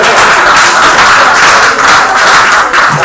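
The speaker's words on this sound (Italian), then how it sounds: "Fatemi un applauso" Sustained, dense applause from an audience at an Italian-language speech event, loud and unbroken throughout with no talking over it.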